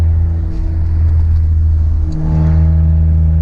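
A loud car cruising on the interstate gives a heavy, continuous low engine drone and road rumble, close and steady, with a slight dip and rise in pitch partway through.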